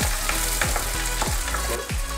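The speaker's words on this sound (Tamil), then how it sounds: "வெங்காயம் வதங்கிறதுக்காக நான் போட்டிருக்கிறேன்" Onions, green chilies and curry leaves frying in hot oil for a spleen fry, a loud dense sizzle with rhythmic scraping strokes of a spatula every half second or so.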